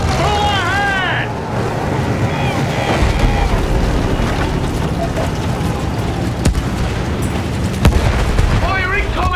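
Battlefield 1 battlefield with artillery shells bursting around a windmill position: continuous loud rumbling blasts and booms, with shouting voices and whistling sounds over the din.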